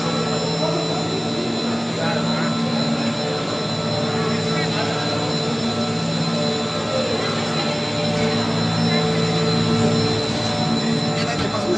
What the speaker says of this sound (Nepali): फाइनली हाम्रो हेलिकप्टर आइसक्यो। अब हामी हेलिकप्टरमा जाँदैछौँ।